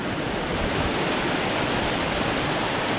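A river near Wren Falls on the North Country Trail rushes steadily, a dense, continuous roar of moving water heard close and loud with no voices.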